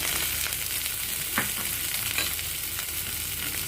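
Onions sautéing in a pan of oil for paneer masala gravy, a steady close sizzle and crackle running throughout with occasional soft stirring scrapes, no voices.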